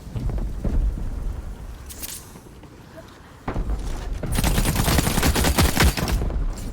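Bursts of gunfire rattle back and forth during a firefight in the video game The Cycle: Frontier, with a short early volley, a lull, then sustained loud shooting near the end.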